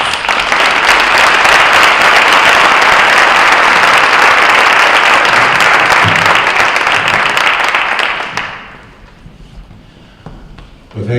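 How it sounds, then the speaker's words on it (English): An audience gives a warm round of applause to welcome a speaker at a school talk, loud and dense for about eight seconds before fading into quieter room noise. "we'd like to give a warm round of applause and welcome to Dr."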